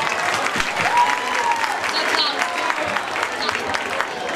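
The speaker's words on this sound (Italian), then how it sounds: "Tanti auguri, un applauso!" A crowd claps steadily and enthusiastically throughout, with a few voices and cheers mixed into the applause.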